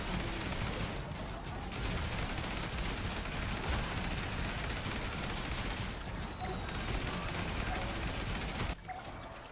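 Dense, continuous gunfire in the zombie roguelite YAZS, including shotgun blasts, forming a loud unbroken barrage of shots and game effects that cuts off abruptly near the end.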